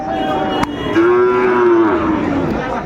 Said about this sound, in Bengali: কোয়ালিটি সম্পন্ন গরুগুলো কালেকশন করছে শাহাদত ভাই